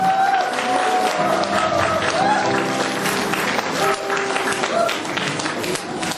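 A concert audience applauds at the opening of a charity music concert held with disabled guests, steady crowd clapping throughout with tonal music or voices faintly under it.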